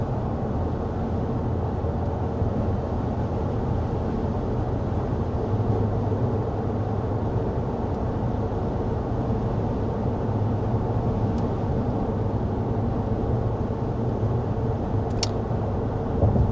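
Steady broadband cabin road noise inside a 2026 Jeep Grand Wagoneer while driving, a constant low rumble and hiss at an even level throughout with no talking.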